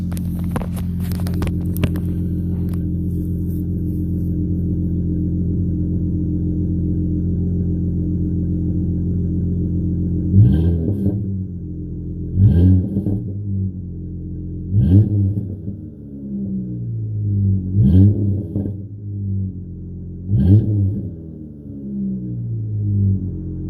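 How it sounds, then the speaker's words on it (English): Dodge Challenger V8 idling with a deep, lumpy rumble, then blipped through about five short revs spaced a few seconds apart, each rising sharply and dropping back to idle, loud and close. "I'll give you a couple revs."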